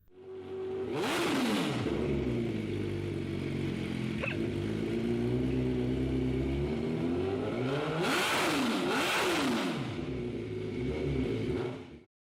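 A Suzuki Hayabusa GSX1300R sport motorcycle engine revs hard and climbs in pitch, dipping and roaring again several times, loud and close throughout.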